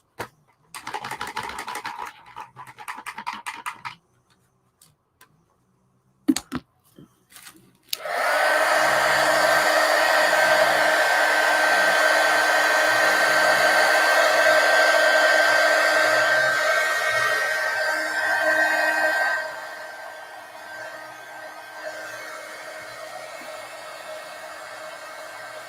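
A handheld dryer blows on a painted art journal page, switching on after scattered tapping and rustling, then roaring steadily and close for about twelve seconds before dropping to a softer hum.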